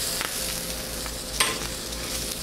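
Sausage for hot dogs fries in a pan with a steady, dense sizzle and a few sharper pops, close and continuous with no talking.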